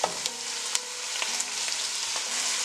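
Meat added to softened onions frying in a pot gives a steady, close sizzle with a few sharp clinks and stirring knocks, and no one speaks.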